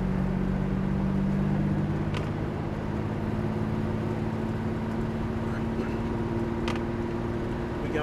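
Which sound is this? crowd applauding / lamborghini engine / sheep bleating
lamborghini engine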